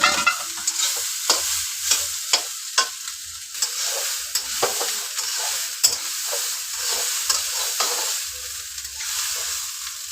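Rice and fried vegetables stirred with salt in a pan: repeated rhythmic scrapes and taps of a spoon over a continuous close sizzle, with no voices.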